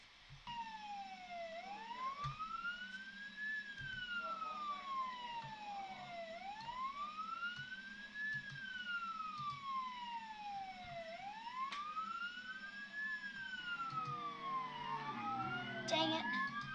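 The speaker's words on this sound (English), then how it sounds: "So I can have that siren." A video game police car siren wails in repeated rising and falling sweeps throughout, steady and fairly loud over a low engine rumble, with a brief burst of noise near the end.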